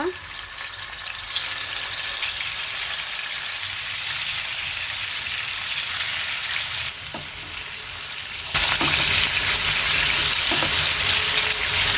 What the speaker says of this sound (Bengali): আমি তেলের ভিতরে মাছগুলো দিয়ে দিচ্ছি ভাজার জন্য